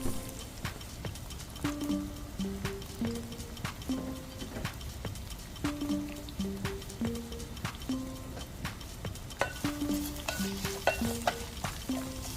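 Chopped onions and green chilies sauté in a pan with a constant hiss of frying. Frequent clacks and scrapes of a spoon stirring run throughout, with a quiet, repeating melody of music underneath.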